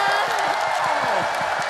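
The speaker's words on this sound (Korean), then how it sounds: "다 같이 박수!" A children's studio audience on a Korean kids' TV show claps together, with dense rapid clapping and high excited voices cheering over it throughout.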